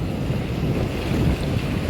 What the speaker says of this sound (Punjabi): ਆਪਣੇ ਸੈਣੀ ਵਾਲੇ ਬਾਰਡਰ ਦਾ ਦਰਿਆ ਪਾਣੀ ਬਹੁਤ ਹੀ ਤੇਜ਼ ਚੱਲ ਰਿਹਾ